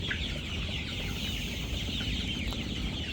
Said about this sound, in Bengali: দেখেন পুরো খামার ভর্তি এখন মুরগি আর মুরগি